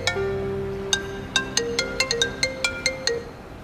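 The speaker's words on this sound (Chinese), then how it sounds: "宁伟锦电话，你。" A mobile phone ringtone plays in an indoor drama scene: a melodic run of bright electronic chime notes that quickens into rapid repeated pings, clear and alone.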